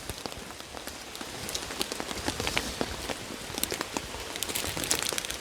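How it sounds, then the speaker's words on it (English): Steady rain patters on a tarp pitched over a hammock at a wild camp on the east coast, with dense, close drips and scattered heavier drops throughout. "because it's raining"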